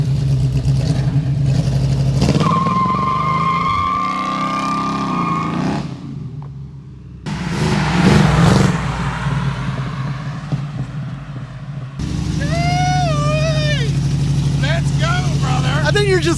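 A Chevrolet Camaro engine drones and revs on a wet day, its rumble rising and dropping across several stretches while people talk and whoop over it.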